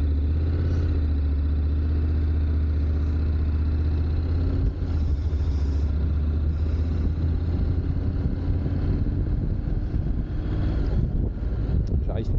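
A 2023 Honda NC 750X DCT (A2) motorcycle engine drones steadily while riding on the road, a low continuous hum under wind rush that holds constant throughout.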